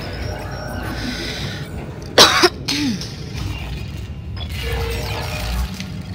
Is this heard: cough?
yes